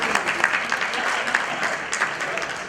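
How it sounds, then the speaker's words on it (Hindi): An audience at Goafest 2017 claps during a talk, a thick, continuous patter of many hands with scattered louder claps standing out near the listener. "अपने लिए एक बार ताली बजा देते तो अच्छा ही है"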